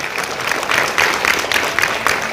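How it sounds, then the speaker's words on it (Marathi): Audience applause for a singer at a literary arts academy event, rhythmic clapping in pulsing waves, moderately loud, with no talk over it. "त्यांच्यासाठी एका जोरदार टाळ्या होऊन जाऊ."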